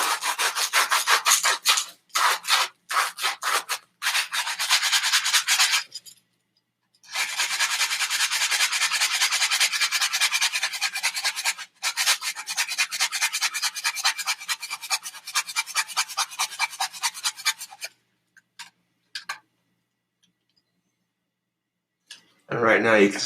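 Sandpaper rolled into a cone sands a wooden wand, making close, rapid back-and-forth scratchy rubbing strokes in long bursts broken by short pauses.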